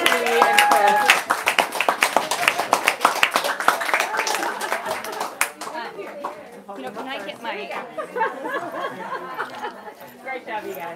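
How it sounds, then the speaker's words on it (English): Clapping from a book-event audience for authors Leigh and Chris, dense and lively for the first five seconds, then thinning out under overlapping chatter and voices near the podium. "Let's give a big round of applause again to Leigh and Chris."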